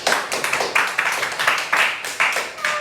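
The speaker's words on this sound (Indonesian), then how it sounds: "Beri aplaus kepada kita semua." A class of students claps together in a brief round of applause, sharp, evenly spaced claps close by and moderately loud.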